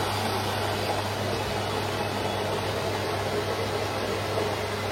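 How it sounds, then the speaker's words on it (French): A Melitta Purista S300 bean-to-cup coffee machine grinds beans with a steady, even whirring drone that runs unchanged throughout, close by and without any voices. "Là on entend que c'est en train de broyer le grain"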